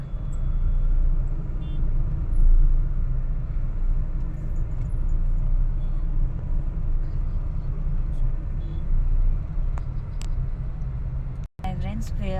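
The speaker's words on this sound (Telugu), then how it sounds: "ఫ్రెండ్స్ అసలు కార్లు కదలటం లేదు, ఫుల్ ట్రాఫిక్ అనమాట." Dense, steady rumble of cars and larger vehicles idling and creeping in a heavy traffic jam near a temple, a continuous low drone close by with faint voices under it and a brief cut near the end.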